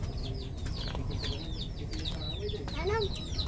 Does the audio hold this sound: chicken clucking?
yes